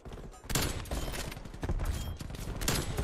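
Sniper rifle fire in Call of Duty Black Ops Cold War, with several loud, sharp shots in quick succession and a dense burst of combat noise that rings out between the reports.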